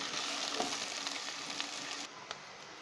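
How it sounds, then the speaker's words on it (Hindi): Chopped onions fry in hot oil in a pan with a steady, close sizzle and a few soft crackles, continuing alone without any voices. "अब हम इसमें प्याज डालेंगे। और इसे 3 से 4 मिनट भूनेंगे।"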